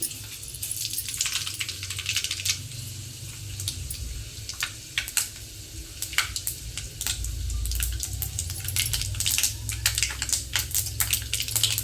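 Fenugreek and mustard seeds in heated oil crackle and splutter with scattered sharp pops over a low, steady sizzle, close by and without speech.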